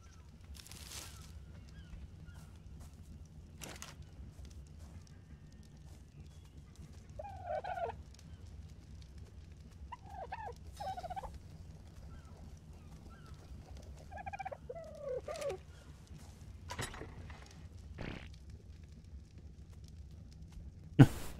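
Dodo birds in the video game ARK give several short, warbling, gobble-like calls spaced several seconds apart, faint against a low background hum with occasional thumps.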